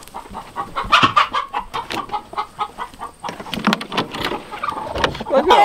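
Chickens in a coop cluck and squawk during egg collecting, a busy mix of repeated clucks and louder calls from several hens close by, with no talk over them.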